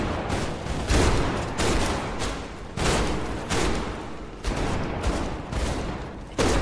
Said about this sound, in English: Let's see if I can just shoot.